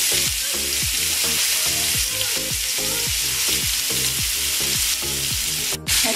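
Chicken pieces frying lightly in a pan for homemade Kerala-style chicken biryani give a constant near sizzle, punctuated by rhythmic scraping stirs and a brief clatter near the end, with no talking.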